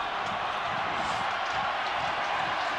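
A stadium crowd at a 1999 rugby league match between Cronulla Sharks and Brisbane Broncos reacts as a player leaves the field, a steady, dense roar of many distant voices that holds unbroken throughout.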